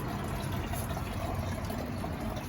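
Water pours into the cooling system of a Ford F-250 Excursion Super Duty V10 6.8 during a coolant flush, a loud, steady rushing fill with no voices.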